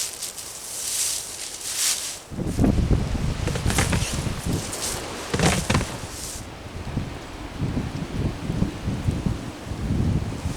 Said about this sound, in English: That north wind is something else.